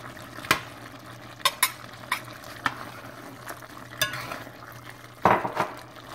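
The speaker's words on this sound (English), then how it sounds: "So I'm adding my potatoes and my carrots." Potatoes and carrots dropped into a pot of Jamaican curry chicken, heard as a few scattered clunks and utensil knocks against the pot over a low simmering background. There is no talking.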